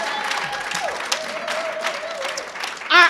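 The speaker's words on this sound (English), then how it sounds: "Can we give Miss Desiree a round of applause?" A gala audience gives a steady round of applause, moderately loud and continuous, with a voice speaking over the clapping and a brief sharper sound at the end.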